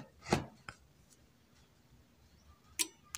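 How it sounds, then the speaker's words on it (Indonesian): A power amplifier's protection relay clicks on at power-up after a transistor swap, one sharp click followed by a few fainter ticks and another click near the end, close and quiet. "Relay udah bunyi."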